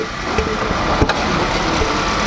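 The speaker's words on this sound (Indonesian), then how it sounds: "Ini posisinya mesin menyala ya. Nih, saya dekatkan mic ke mesinnya nih. Kalian bisa dengar suara mesinnya." A Toyota Avanza G, a 2017 model, idles with the bonnet open and the microphone held close to the engine, giving a steady, even mechanical hum throughout.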